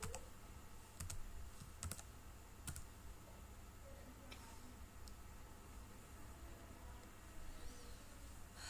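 Keys tapped on a computer keyboard while entering a function into Maple 18 math software, a few sharp clicks and a firmer Enter press clustered early, then sparse faint taps over a steady low hum, no talking.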